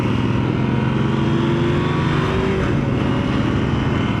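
A steady, loud engine drone from a Husqvarna Norden motorcycle runs throughout, with a rough motor rumble that builds slightly, as if heard from on the bike.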